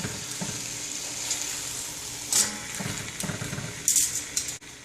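Seasoned chicken pieces brown in a hot pan with a soft, steady sizzle, broken by a few louder crackles and the clink of a utensil against the pan, close and alone.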